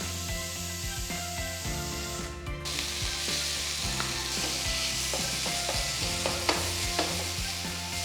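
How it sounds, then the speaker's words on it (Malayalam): Finely chopped tomato goes into a pan of frying garlic and ginger for pav bhaji masala, producing a steady loud sizzle with repeated scraping stir strokes, close up and continuous. "ഈ സമയത്ത് നമുക്ക് ടൊമാറ്റോസ് ആഡ് ചെയ്യാം. ഞാൻ ഇവിടെ എടുത്തേക്കുന്നത് 3/4 കപ്പ് ടൊമാറ്റോ, ഒരു വലിയ ടൊമാറ്റോ ഫൈനായിട്ട് ചോപ്പ് ചെയ്തത്."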